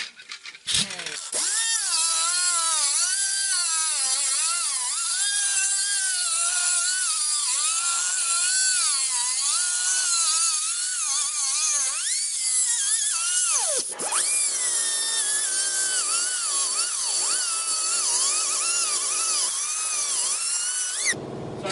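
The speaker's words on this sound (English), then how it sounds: "now I'm going to take my air cutter and cut this off, also leaving it a little long" Pneumatic air cutter with a cutoff wheel slicing through cab corner sheet metal, a continuous high, loud whine that wavers in pitch as it bites, briefly stopping and restarting midway, close and without talk.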